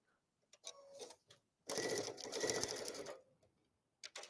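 A sewing machine stitching two fabrics together, quiet short bursts of rapid mechanical whirring, then a longer run of about a second and a half, stopping and starting again, close and alone.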